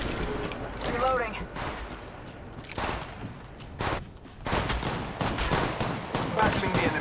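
Gunfire in Apex Legends Mobile comes as repeated sharp shots and short bursts, loud and close, mixed with mechanical clicks and game noise, with a voice speaking briefly.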